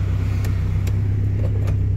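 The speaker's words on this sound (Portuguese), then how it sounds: "o carro fica com a marcha lenta perfeita" A VW Beetle fitted with a Subaru 2.0 16V engine idles with a steady low rumble and an even pulsing throb, close and loud throughout.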